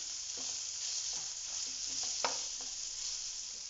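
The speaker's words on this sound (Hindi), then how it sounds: "जिंजर गार्लिक पेस्ट डाल के 1 से 2 मिनट तक इसको अच्छे से फ्राई कर लें।" Ginger garlic paste sizzles steadily in a hot pan while cooking a ridge gourd fry, with a utensil scraping and stirring at irregular intervals; no voices.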